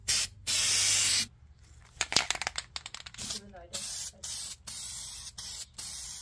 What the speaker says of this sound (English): I also sprayed some of the internal frame coating